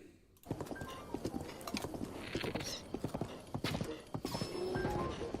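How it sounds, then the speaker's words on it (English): Horse hooves clip-clop in a quick, steady gallop rhythm while riding in the video game Breath of the Wild. The hoofbeats are close and continuous with no talking. "It was just a good stretch of shooting from the horse."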